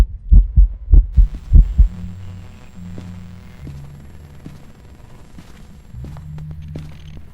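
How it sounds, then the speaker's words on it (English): A heavy, booming heartbeat pounds in a fast series of thumps during a ghost hunt in a horror video game, then gives way to low droning hum and scattered soft game sounds. "It was a Ridgeview heartbeat."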